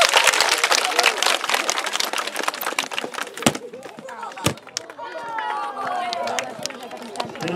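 Children and onlookers clap at a primary school sports day during a judo-style throw demonstration, a burst of scattered, uneven applause that fades after a few seconds into a sharp thud or two and chatter, with voices talking.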